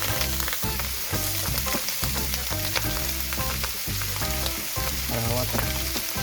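Ingredients for a Filipino papait are sautéed in a hot pan, a loud, steady sizzle with rhythmic stirring and scraping strokes all the way through, and a brief word spoken over it.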